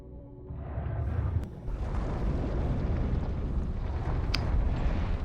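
A flashbang grenade going off in a video game: a loud burst followed by a sustained, ringing roar that fills the whole stretch, with a sharp high tone flaring briefly near the end.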